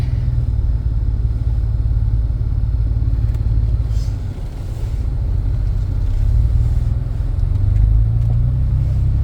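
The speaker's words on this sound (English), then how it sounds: "so there's your exhaust leak. You can hear that" A 2011 Jeep Wrangler pulling away in first gear with an exhaust leak, a loud, steady low engine rumble with a rough, puffing rasp that swells slightly toward the end.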